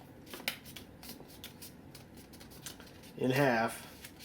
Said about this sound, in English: you're going to fold it in half